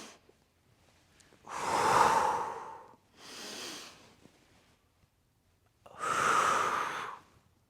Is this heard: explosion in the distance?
no